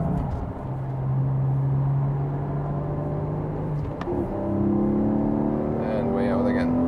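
Porsche 718 GTS 4.0 on a racetrack with the driver easing off the gas and working the clutch, its engine note holding steady and then dipping before climbing again after a brief gap, loud and close from inside the car.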